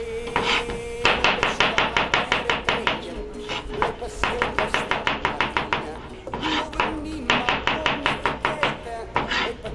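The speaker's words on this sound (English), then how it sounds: "And then we're going to cut some mushrooms, see?" A knife chops through mushrooms on a cutting board in a home kitchen, striking in fast, even bursts of sharp taps with brief pauses between runs, close and clear.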